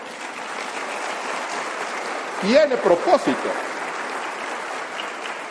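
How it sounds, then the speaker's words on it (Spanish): Congregation applause in a church service fills the space as a steady broadband wash, with someone speaking briefly over it near the middle. "dale un aplauso al Señor."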